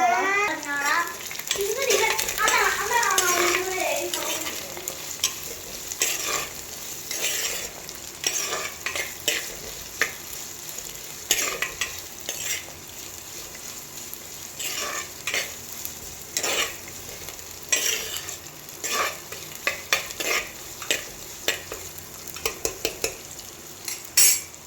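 Onions with garlic fry in a pan, hissing steadily while a utensil scrapes and clinks against the metal in irregular bursts, close by, with brief voices in the background early on.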